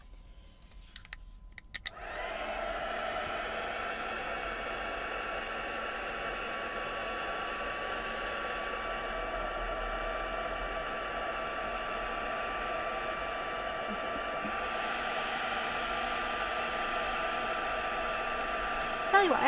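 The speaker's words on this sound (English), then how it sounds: "Oh, dodgy heat gun time." A heat gun starts up after a brief quiet moment and keeps blowing hot air in a steady, loud, broadband whoosh with a faint whine. It runs without pause for the rest of the stretch while drying paint at a craft table.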